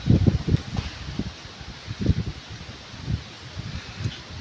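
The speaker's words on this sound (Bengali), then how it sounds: "বাতাসের বেগও অনেকটা বেশি" Strong gusts of wind ahead of a Kalbaishakhi storm buffet the microphone in bursts, with leaves rustling under a steady hiss of moving air.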